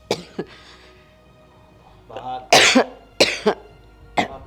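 Several harsh coughs in bursts from a person with a two-day cough, close and loud, with pauses between them and a brief throat sound early on.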